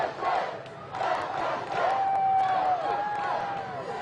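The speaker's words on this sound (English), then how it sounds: "Go, Coach O is the chant they're doing right now" An arena crowd at an LSU celebration inside the Pete Maravich Assembly Center chants "Go, Coach O" for coach Ed Orgeron, rhythmic massed voices rising in repeated bursts over a roomy roar, with a sustained whistle-like tone partway through.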